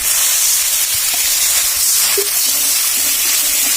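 Water poured onto frying coriander, Kashmiri chili and turmeric powders with salt sets off a loud, continuous hissing sizzle that stays steady and close throughout.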